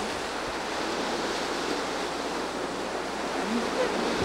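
Ocean waves breaking against a seawall beside a sidewalk and street, a continuous loud wash of surf with a faint voice beneath.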